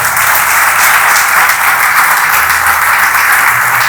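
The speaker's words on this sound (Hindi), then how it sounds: "उस पहले फल के लिए अब ताली बजा सकते हैं जोर से।" A church congregation claps loudly together, a dense and continuous wash of applause at close range that stays even in strength from start to finish.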